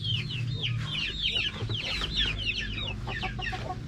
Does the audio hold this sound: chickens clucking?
yes